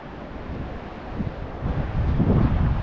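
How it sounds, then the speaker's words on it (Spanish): Strong wind gusting over open water during a late-season smallmouth bass fishing outing in Virginia, a steady broadband rush that grows louder and fuller toward the end, with no talking. "Está corriendo bastante viento,"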